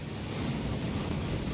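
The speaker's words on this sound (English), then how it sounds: "That waterfall washes away all enchantments." The rushing waterfall called the Thief's Downfall in the Gringotts vaults of Hogwarts Legacy gives a dense, constant roar of falling water, steady and fairly loud throughout with no voices over it.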